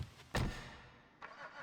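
A Buffalo S car in GTA, its engine giving a short rev burst followed by a settling idle, then a second smaller surge, fairly quiet overall with no voices.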